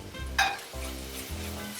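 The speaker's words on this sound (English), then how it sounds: "Stir the moody masala in so it gets a nice color, a rich brown color into the masala" Masala being stirred in a hot pan for Bengali Calcutta-style ghugni, a steady close sizzle with a brief scraping stir near the start and no voices.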